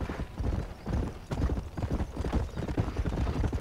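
Horses galloping in the open-world western game Red Dead Redemption (2010), with a steady, loud run of hoof clip-clops, a brief whinny and no talk over it.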